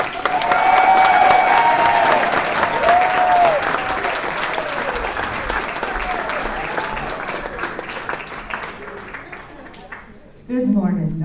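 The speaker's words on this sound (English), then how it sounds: "Let's give her a round of applause." An audience at an amateur musical variety revue in a senior residence applauds steadily and warmly, the clapping slowly thinning before a voice speaks briefly at the end.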